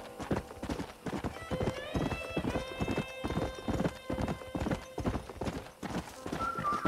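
Steady galloping clip-clop of horse hooves while riding in the video game Red Dead Redemption, a continuous rhythmic pounding close and loud with a soft tonal game background running underneath.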